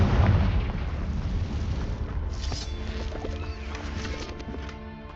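A Confringo fire spell exploding in Hogwarts Legacy, one loud deep boom at the start that rolls off into a long rumbling decay, with no voice over it.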